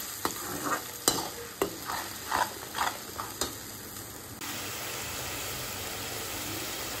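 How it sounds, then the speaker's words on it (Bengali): A paste of tomato, onion and garlic is stirred in a hot frying pan. About eight sharp spatula scrapes and taps land at an uneven pace over a sizzle, then give way to a steady, even frying hiss. "এবার আগে থেকে পেস্ট করা টমেটো, পেঁয়াজ, রসুনেরটা দিয়ে দিলাম। দিয়ে ভালোভাবে নাড়িয়ে নিচ্ছি।"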